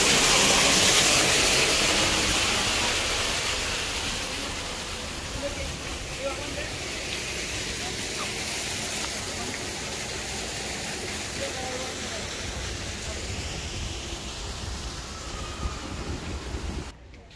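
Steady broadband rush of a waterfall in a botanical garden, continuous and fairly loud throughout, swelling slightly at the start then holding an even wash of falling water.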